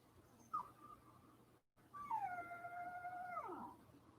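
A dog whines to be let into a room, giving a short thin whimper and then a longer, sustained high wavering whine close by, with no talk.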